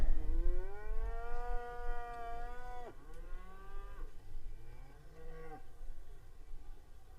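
Cattle at the Balmoral cattle rings give a long, loud, close moo that swells and falls, followed by two shorter, fainter lowing calls, with no talking.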